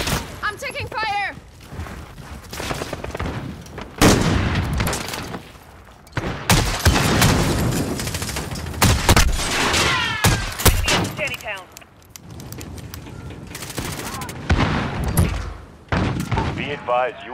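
Gunfire crackles and thumps through a military video game, heavy bursts and single booming shots broken by short lulls, with radio-style voices speaking between and under the shooting.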